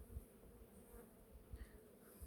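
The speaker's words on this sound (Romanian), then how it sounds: "albinii lucrează." Honeybees working at a hive, a soft continuous buzzing drone of many insects with a few brief louder passes, faint and close, no voices.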